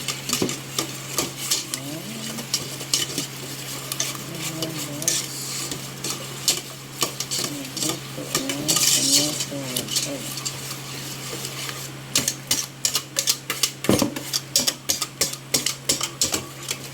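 Cooked tomato being stirred in a pan, with a continuous sizzle under many quick metal scrapes and clinks of a utensil against the pan, nearby and fairly loud, with a steady hum underneath.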